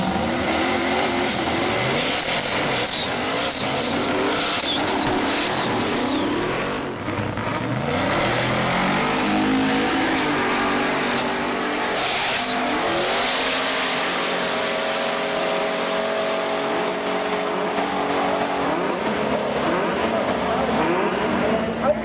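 Cars racing down the strip at Sydney Dragway during a Wednesday night test and tune, engines revving and roaring past, some turbocharged, with tire squeal and a continuous loud drone of accelerating motors over a long stretch.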